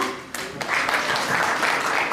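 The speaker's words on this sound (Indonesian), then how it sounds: "Tepuk tangan buat Mbak Ola." An audience applauds at a panel discussion on a just energy transition and green jobs, with steady broadband clapping that begins abruptly and continues evenly for a couple of seconds without any talk.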